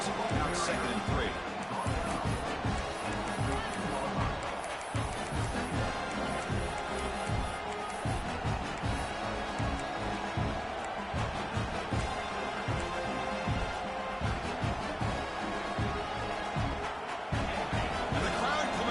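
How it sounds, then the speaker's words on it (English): Stadium crowd in a college football video game, Michigan vs Penn State, cheering and roaring continuously, loud and dense, with thumping game sounds and a commentator talking throughout. "the crowd coming to life here, trying to help this defense down in the red zone"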